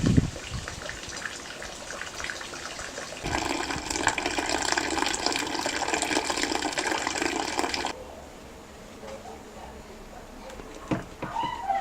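Hot water, about 40°C, gushes and splashes steadily into a bucket during homebrewing for several seconds, then cuts off, leaving quieter trickling and a few faint clinks.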